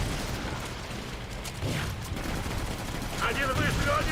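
Gunfire crackles in dense, continuous bursts during combat in the video game Stories: The Path of Destinies, mixed with mechanical clatter and a voice speaking over the action.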